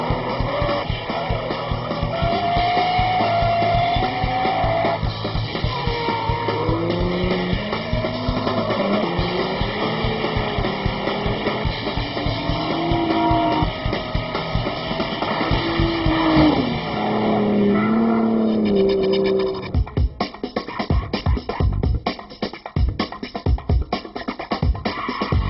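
A drift car slides through a corner at full throttle after an upshift from second to third. The engine note rises and falls through gear changes, loud and close, ending in a rough, broken burst of tire and exhaust noise.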